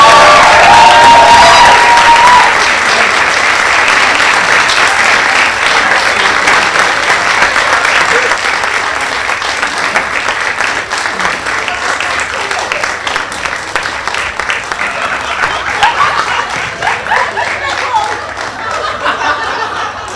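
A theatre audience at a student comedy show applauds the performers at the end of the evening, loud sustained clapping with scattered cheers and chuckles that gradually thins out over about twenty seconds.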